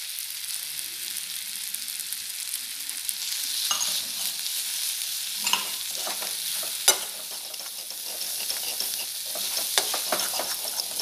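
Chana masala with amchur powder sizzles steadily as it fries in a pan, with scraping stir strokes of a spoon cutting through at intervals; close and alone, with no voices.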